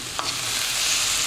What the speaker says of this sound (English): Give it a stir around for a little bit.